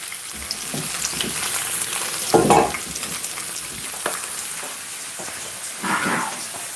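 Food frying in a cast iron pan while a sausage and egg breakfast cooks, with a soft continuous sizzle broken by a few louder crackles and stirring scrapes close by.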